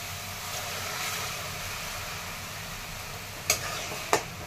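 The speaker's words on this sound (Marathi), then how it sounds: "आता ही टोमॅटोची पेस्ट पण आपल्याला छान कच्चेपणा, तेल सुटेपर्यंत परतून घ्यायचे आहे." Tomato paste frying and being stirred in hot oil in a pan for rajma, a steady soft sizzle with two sharp scraping clinks of the spoon near the end, no talk.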